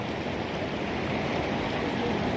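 Floodwater from the Torsa river rushes across a road near Phuentsholing, Bhutan, where vehicles sit blocked: a steady, dense roar of moving water, close and continuous throughout.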